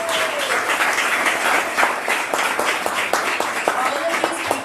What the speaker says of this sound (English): Everybody give these people a round of applause.